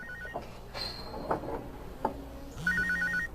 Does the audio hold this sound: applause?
no